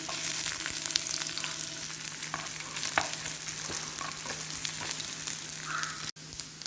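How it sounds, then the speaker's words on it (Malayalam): Curry leaves, shallots and chopped coconut fry in hot oil for a beef bone curry, with a steady close sizzle, scattered crackles and a few stirring clicks throughout, no voices. "അതിലേക്ക് നമുക്ക് ഇച്ചിരി കറിവേപ്പില, കൊച്ചുള്ളി, ഇച്ചിരി തേങ്ങ കൊത്തിയതാണേ, അതും കൂടെ ഒന്ന് വറുത്തിടാം."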